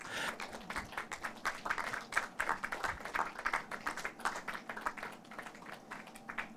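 An audience applauds the director Sabrina Sarabi of the film Niemand ist bei den Kälbern, dense clapping from many hands filling the hall steadily throughout.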